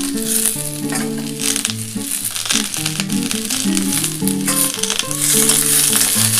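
Cauliflower florets sizzling in a frying pan with beans for a vegetarian Bengali vegetable curry, a steady crackling fry under prominent background music.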